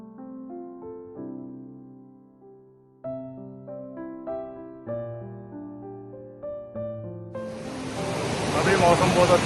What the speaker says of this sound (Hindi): अब जस्ट सामने पहुँचने वाला है मछली नदी और वाटरफॉल।